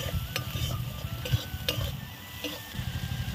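Spice paste with salt and turmeric sautéing in a pan for a Bengali fish curry with yam, with soft continuous frying and repeated stirring scrapes, plus a few sharper clicks of a utensil against the pan.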